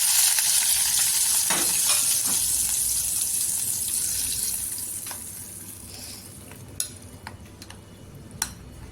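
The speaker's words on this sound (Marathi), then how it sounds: "इथे तेल आहे त्याच्यामध्ये जिरं टाकायचं थोडीशी राय टाकायची आणि हिंग टाकायचं" Cumin, mustard seeds and asafoetida crackle and sizzle in hot oil, a bright, dense fizz that gradually fades, followed by a few sharp clinks of a utensil against the pan.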